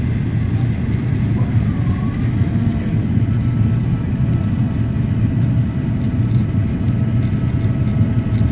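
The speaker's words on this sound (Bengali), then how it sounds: "একদম ল্যান্ডিং এর মোমেন্ট।" Airplane landing at Zurich Airport, heard as a steady, loud low rumble of engine and airframe noise that holds evenly throughout with no talk over it.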